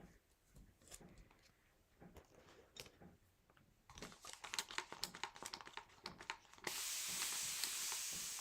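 Aerosol spray can misting down spring planters, a loud continuous hiss that starts near the end and runs steadily, after earlier scattered clicks and rustling handling noises.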